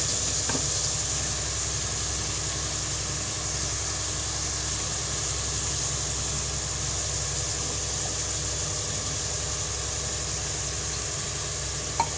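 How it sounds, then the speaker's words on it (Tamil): Masala sizzles steadily in a pan while being sautéed for mushroom biryani, an even, close frying hiss that runs continuously with no pauses and no voices. "இப்போ வந்து மசாலா இதையும் சேர்த்து நம்ம வதக்கலாம்"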